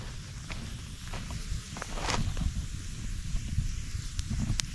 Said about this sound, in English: Northerly wind, so it's coming from behind there.